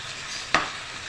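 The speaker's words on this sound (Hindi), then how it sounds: "सबसे पहले हमने ऑयल के अंदर इसको फ्राई कर लेना है।" Chicken pieces frying in oil for a paratha roll give a steady, quiet sizzle, with a single brief stir or clatter in the middle.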